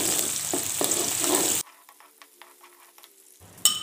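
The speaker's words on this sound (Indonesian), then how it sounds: "kita goreng terlebih dahulu atau kita sangrai ya terlebih dahulu hingga benar keluar aromanya" Spices for ketupat sayur dry-roasting and frying in a pan, a loud sizzling hiss with a few stirring scrapes that cuts off abruptly, followed by quieter clinks and a brief burst at the end.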